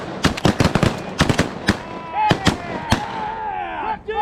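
Shotgun blasts ring out over water on a Kansas goose hunt, a rapid string of sharp close shots in bursts, with shouting and excited voices between them.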